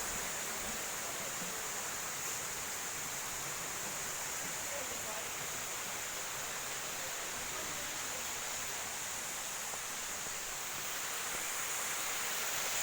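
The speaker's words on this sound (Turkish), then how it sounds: "Burası da en alttaki şelalemiz." The lowest waterfall at Gizli Cennet in Antalya, Turkey, roars steadily as a dense, even rush of falling water, loud and unchanging throughout with no voices over it.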